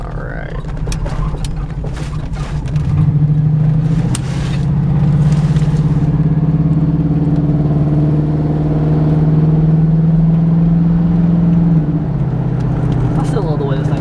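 Engine and exhaust of a 1996 Buick Roadmaster wagon, a steady hollow-toned drone holding close and loud through most of the stretch, briefly rising near the start, with a few faint chirps above it.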